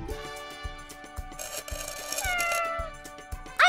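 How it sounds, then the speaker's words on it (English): A cat meows in a café setting, a short cry rising near the end over steady music and background clatter. "This is milk for your cat!"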